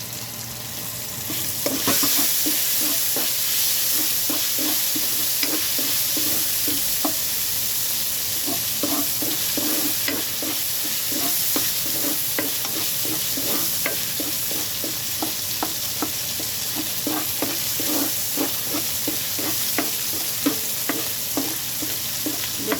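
Sponge gourd (patola) going into simmering beef soup in a pot, a constant loud bubbling hiss with regular scraping stirs throughout, near and without talk.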